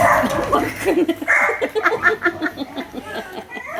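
A dog gives a run of yips, whimpers and short barks, close and fairly loud, with a person's voice murmuring in the background at points.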